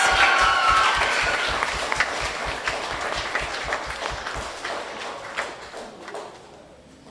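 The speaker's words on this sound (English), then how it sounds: "You can keep clapping, she deserves it." An audience at a primary schools spelling bee claps for a third-place winner, steady applause that thins and fades toward the end, over a rhythmic low thumping.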